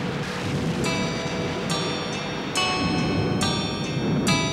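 Steady rain falls during a stormy rainy-season night, a dense continuous hiss with no voices, broken by a few brighter ringing or splashing accents.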